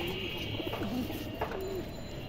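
Indian Kaldom high flyer pigeons coo softly and continuously nearby, a low warbling murmur over a constant background hiss, with no voices.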